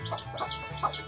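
Hens clucking close by at a farm smallholding, three short bursts of clucks spaced across about a second, with a low steady hum underneath.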